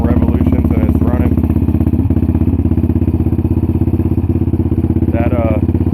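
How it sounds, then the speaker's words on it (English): A modified 2008 Yamaha Raptor 700R GYTR special edition ATV with dual exhaust idles cold just after starting, a loud, deep, steady and evenly pulsing engine rumble up close, with no misfiring. "I just pulled it out of the garage, haven't cranked it up yet, so you'll see how it cold starts right here"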